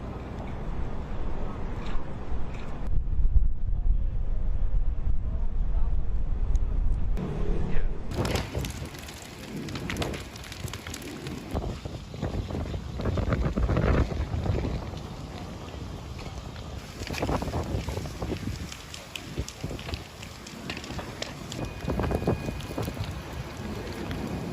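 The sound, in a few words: strong wind during a hillside wildfire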